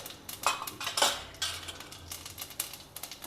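Urad dal tipped into hot oil in a pan with mustard seeds, for a South Indian beetroot poriyal, giving a scatter of light clinking and crackling taps with no talk.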